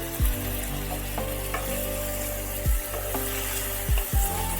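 Spiced potatoes stir-fried in a pan, a steady sizzle running throughout with several low thumps and scrapes of the spoon turning the pieces at irregular intervals; close and moderately loud, no voices.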